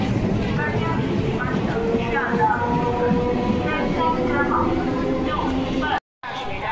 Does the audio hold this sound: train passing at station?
yes